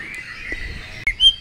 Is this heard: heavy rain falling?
no